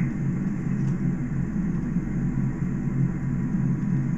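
Airliner engines in the FSX flight simulator spooling up at throttle, a steady low rumble and hum that holds level throughout, with no talking.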